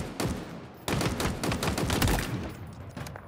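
Rapid gunfire rings out while shooting targets in Halo Infinite, sharp close bursts in quick succession with a brief pause before a longer volley.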